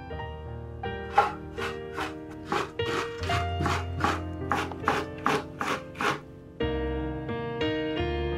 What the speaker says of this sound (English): Wash and grate a zucchini, and place the gratings into a clean cheesecloth.